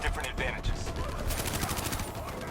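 Rapid bursts of automatic gunfire from the video game Call of Duty Black Ops 2, dense and continuous through the short stretch, with a voice talking underneath.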